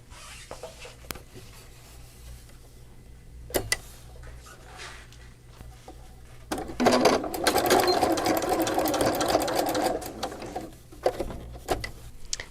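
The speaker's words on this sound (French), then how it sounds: "je vais venir coudre à 1/4 de pouce du bord" A sewing machine stitches a folded fabric band for a double-layer tuque, right sides together, a quarter inch from the edge. After quiet handling it runs in one steady, close burst of several seconds, then stops, with soft rustling of fabric.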